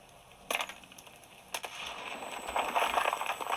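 A frag grenade in a video game on a gaming laptop: a sharp metallic click and clatter, then a second clank, followed by a rising crackling rush of noise, all fairly close.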